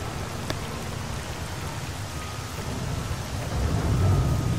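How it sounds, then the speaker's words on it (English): Steady rain hisses beneath a low rolling rumble of thunder that builds toward the end, in the video game S.T.A.L.K.E.R.: Call of Pripyat, with no talking. "Lightning, storm, and rain really add to the atmosphere,"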